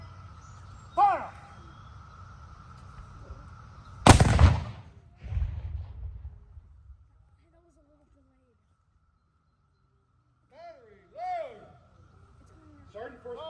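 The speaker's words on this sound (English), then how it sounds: "Fire one round for all those who died in the Korean conflict." A single loud ceremonial rifle salute round fired at a 2021 Memorial Day service echoes sharply, with a commanding voice before it and further speech afterward over outdoor quiet.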